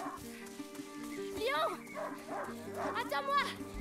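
Hunting dog in the video game A Plague Tale: Innocence barks and yips in short bursts against a droning music bed.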